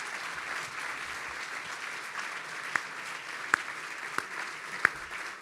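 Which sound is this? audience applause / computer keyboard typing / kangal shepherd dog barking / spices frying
audience applause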